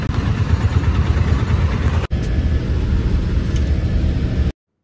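An APSRTC air-conditioned bus idles nearby with a steady, loud, low engine rumble that runs unbroken apart from one brief dropout midway, then cuts off abruptly.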